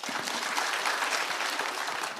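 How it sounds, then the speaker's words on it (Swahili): A crowd at a public security forum in Nyamira County claps steadily, a thick, sustained patter of many hands that stays even and close with no voices over it. "Haya, tujipikie makofi"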